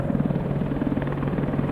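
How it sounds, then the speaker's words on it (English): An RAF Apache helicopter during a Joint Warrior military exercise, heard from inside a forest: a steady, rapid rotor thudding that reverberates off the trees, continuous and moderately distant, with no voices. "You think you'd swear there was a helicopter"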